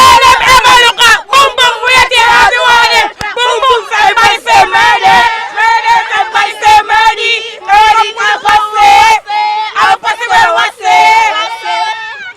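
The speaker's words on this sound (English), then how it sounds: "the cheering actually continues" Loud crowd of schoolchildren and spectators cheering and whooping after a primary school netball final, a sustained dense roar of shrill voices with repeated bursts of yelling throughout.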